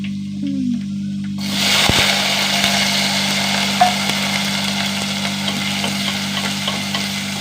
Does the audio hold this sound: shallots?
yes